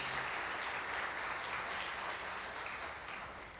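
A Baptist church congregation applauds together, a soft, continuous hiss of many distant hands clapping that fades gradually toward the end.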